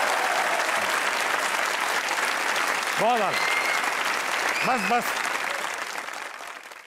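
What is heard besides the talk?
audience applause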